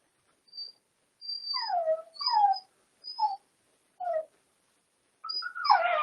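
Puppies whimper and yip in short, high, wavering cries, several separate bursts near and fairly soft against otherwise quiet surroundings, ending in a louder whine.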